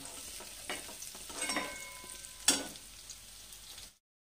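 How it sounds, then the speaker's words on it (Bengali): Fried paneer being lifted out of a wok into another dish, a faint sizzle of oil with a few scraping and clinking utensil sounds, ending abruptly. "এবার পনিরগুলোকে আমি অন্য পাত্রে তুলে নিচ্ছি"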